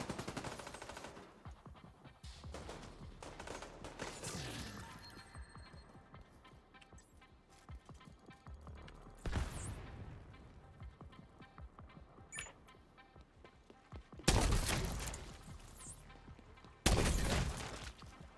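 Scattered gunshots in a video game firefight, mostly distant and faint under a low ambient bed, with a few louder isolated bangs breaking through near the end.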